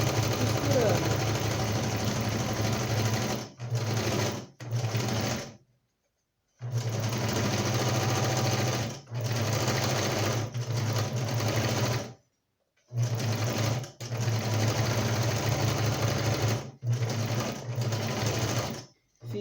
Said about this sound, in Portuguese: eu faço um retrocesso no começo, um retrocesso no fim e sigo costurando